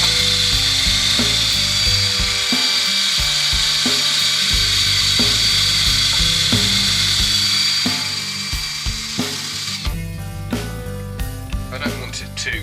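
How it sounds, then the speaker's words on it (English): A power drill fitted with a buffing pad whirs against a turned wood piece that has been coated with Hampshire sheen, a steady high-pitched spin with rubbing scrapes. The pitch shifts toward the end as the pad is lifted and pressed again. "I'm just going to take a drill and a buffing pad to it"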